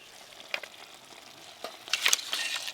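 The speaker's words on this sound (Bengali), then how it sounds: "এখনো দেখো ফুটছে গুটগুট করে।" Singi and magur fish curry cooking in a pan, giving a soft steady sizzle and bubble with a few brief clinks and stirring sounds that grow a little louder toward the end.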